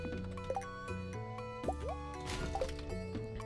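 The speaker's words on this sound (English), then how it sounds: "I think a load of it fell in the water" Wood falling into water in the farming video game Stardew Valley, a series of soft drips and plops over a quiet backdrop of tonal game music, each splash brief and light.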